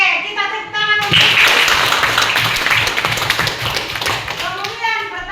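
A class of children in a lesson breaks into brisk, close clapping after a short pause, the dense applause lasting several seconds before children's voices return.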